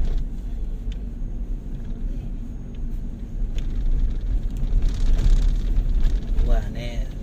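Large trucks rumbling along the Jakarta-Cikampek toll road, a heavy continuous low roar of engines and tyres that swells and passes, heard from inside a moving vehicle with people talking over it.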